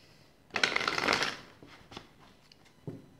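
A deck of tarot cards is riffled in one quick, papery burst, followed by a few softer taps and flicks as the cards settle, close and clear in a quiet room.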